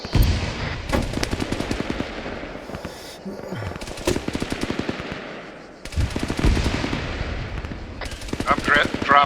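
Heavy weapon fire during a video game tank fight, with high-explosive shells dropped on an enemy tank: loud, rapid bursts of shots and blasts that cut out briefly and then resume, with muffled voice chat underneath.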